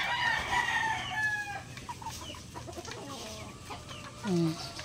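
Native Tagalog chickens cluck and chatter together in a backyard flock, and a rooster crows loudly near the start. A low voice can be heard faintly beneath the birds.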